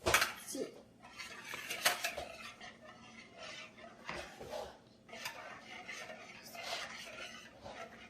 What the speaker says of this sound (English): I'm going to mix the cake